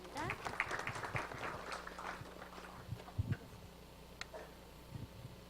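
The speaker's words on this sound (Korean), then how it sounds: "큰 박수로 맞이해 주시기 바랍니다." Scattered audience clapping greets a speaker at a startup venture forum, a quiet, uneven patter of claps that thins out and fades, with faint room noise and some brief sounds near the end.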